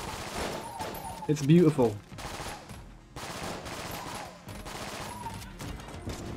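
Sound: rapid gunfire from the video game Enter the Gungeon

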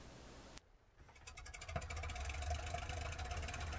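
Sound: Felixstowe F.2A flying boat engines starting, from a video game

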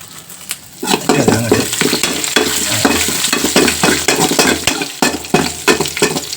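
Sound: sliced shallots and curry leaves frying in oil

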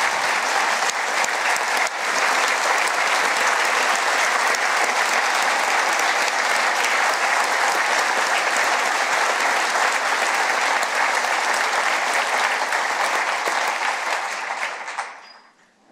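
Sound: audience applause during State of the State address

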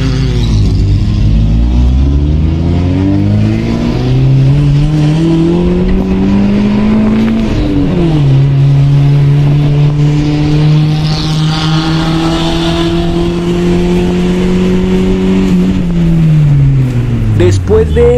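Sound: Chevrolet Spark and Honda cars revving and racing

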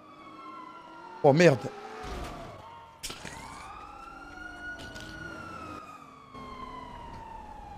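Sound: police sirens in the video game GTA

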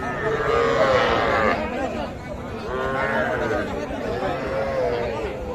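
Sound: young calves mooing at a cattle market

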